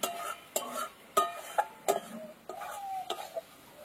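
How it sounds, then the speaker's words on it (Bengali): Boneless chicken is stir-fried in a pan for a curry, with a spatula scraping and clicking against the metal in irregular, fairly close strokes and soft sizzling between them; no one talks. "এবার এই মাংসটা একটু ভালো করে কষিয়ে নিতে হবে।"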